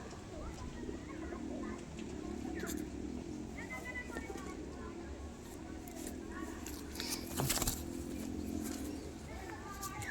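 Kasuri pigeons kept as pets coo softly in low, repeated throaty murmurs, nearby but faint under someone talking, with a few brief clicks and rustles.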